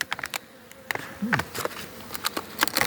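Honeybees fly around beehives at an apiary on a mild November day, a close, steady buzzing with single bees passing near and drifting off, and no voices.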